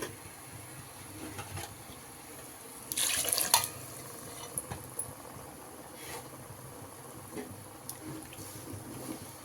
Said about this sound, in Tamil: இப்போ இந்த ஸ்டேஜில் தண்ணி சேர்த்துக்கலாம்.